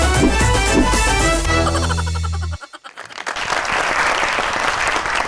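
Studio audience applause on a Pakistani comedy talk show breaks out under a musical sting with boing effects, then fades to a quieter scattered clapping as the music cuts out.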